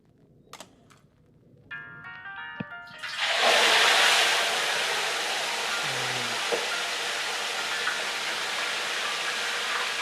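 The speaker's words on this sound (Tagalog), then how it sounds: "Mainit na ang ating mantika. Pinainit namin yan ng matagal-tagal. So, ilulubog na natin ang ating maya-maya." Red snapper dropped into oil heated a long time over a medium flame: a few faint clinks, then a sudden loud hiss that settles into a steady, close sizzle with no voices.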